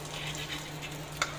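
Steady crackling sizzle of maruya, banana fritters, frying in oil, soft and continuous with a low hum beneath and one brief sharp spatter near the end.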